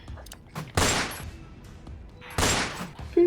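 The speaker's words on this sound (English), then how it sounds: "she's gonna dump 2 shots out her AK" AK rifle fire in a Resident Evil tabletop session, heard as two separate loud broadband bursts about a second and a half apart, over faint background noise.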